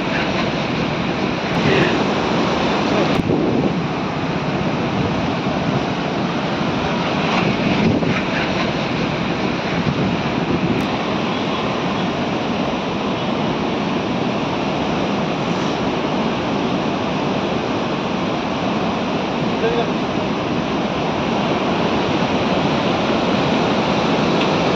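Floodwater roars steadily through the Galudih Barrage near Jamshedpur, a loud, continuous, broadband rush with no letup and no voices.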